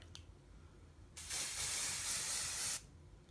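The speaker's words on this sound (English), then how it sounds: "Give it a good spray." A bottle of spray foundation sprays in one steady hiss lasting about a second and a half, loud and close, with quiet room tone before and after.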